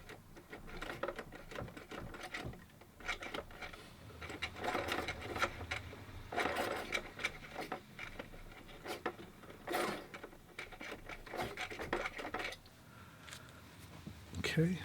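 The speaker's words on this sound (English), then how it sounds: "so I sharpen my pencil" A pencil is sharpened while preparing a watercolor painting of a beach, ocean and dunes, heard as quiet, irregular bursts of scraping and grinding that start and stop over several seconds.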